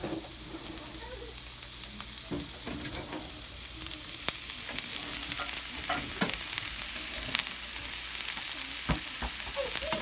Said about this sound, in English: When you put them in, you should always hear a sizzle.